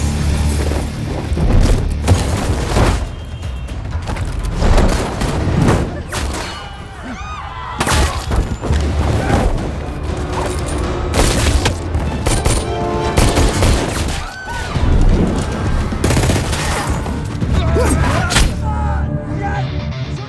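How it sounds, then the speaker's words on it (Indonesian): A gunfight from the film Blood Brothers: Bara Naga, with loud, continuous bursts of gunfire, heavy booms and thuds packed densely throughout, close and intense over a dramatic score. "baku tembak pun tak terhindarkan antara pasukan Arif dengan kelompok penyerang misterius tersebut"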